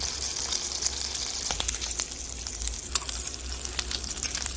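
Butter sizzles in a hot pan with grade 1++ Korean hanwoo sirloin and striploin beef, a constant close crackling fry with bright spitting pops and no voices.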